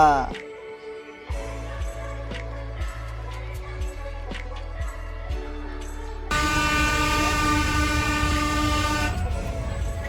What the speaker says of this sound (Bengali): এটা কি ট্রেনের হর্ন বাজলো নাকি গাড়ির হর্ন